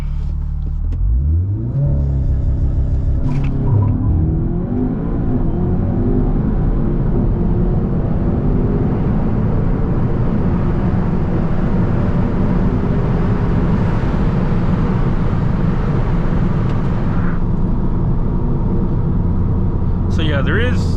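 An Audi S3 with upper and lower engine mount inserts launches hard from a standstill: a loud, close engine revs, then surges into sustained acceleration, with a rising drone holding through the pull and a brief gear-change break near the end.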